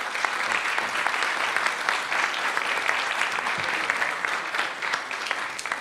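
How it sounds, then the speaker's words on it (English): At a National Press Club luncheon, the audience gives a round of applause for guest speaker Gregory Jaczko, steady crowded clapping with sharp individual claps standing out, continuing evenly throughout. "How about a round of applause for our guest speaker today?"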